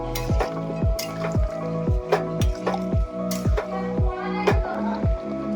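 Boiled chickpeas and potato stirred through masala in a pan, with a steady rhythmic series of wet squishing scrapes and light sizzling, close and moderately loud with no talking.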